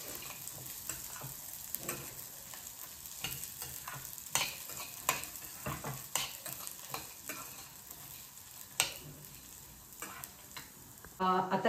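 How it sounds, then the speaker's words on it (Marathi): Chana dal and urad dal with peanuts fry in oil while being stirred, a soft sizzle broken by repeated sharp spoon scrapes and taps against the pan, fairly quiet and without talking. "तर याच्यामध्ये टाकते आहे चना डाळ, उडीद डाळ आणि हे छान असे परतून घेते."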